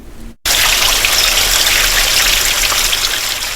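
A creek in a Letcher County, Kentucky community flows in a loud, constant rushing wash of water that starts abruptly after a brief pause and keeps going evenly.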